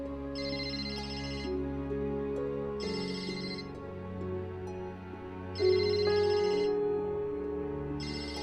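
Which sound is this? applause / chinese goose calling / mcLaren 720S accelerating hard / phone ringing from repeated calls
phone ringing from repeated calls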